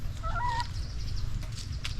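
Native hens clucking nearby, a short burst of clucks at the start followed by faint low background noise.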